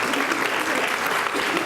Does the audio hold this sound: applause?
yes